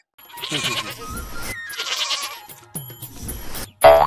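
A goat bleats loudly and close by in several long, wavering cries, separated by short pauses, with a brief sharp sound at the very end.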